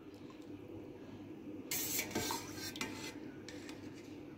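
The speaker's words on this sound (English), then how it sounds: "every 5 minutes I'm supposed to come in and stir the curd" Goat's milk feta curd is stirred in a pot for a couple of seconds, a spoon scraping and clinking against the metal over a steady background hum.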